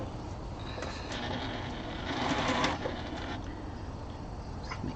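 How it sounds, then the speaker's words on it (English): A sewing machine stitching fabric strips onto a placemat, running in a steady whirring stretch that swells briefly in the middle, close and moderately loud. "So we're just going to sew our strips on."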